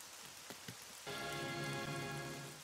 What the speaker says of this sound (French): Mais le lendemain fut un jour de pluie.